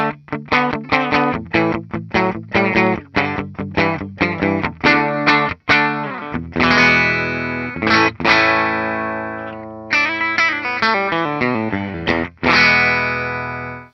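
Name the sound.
electric guitar on bridge pickup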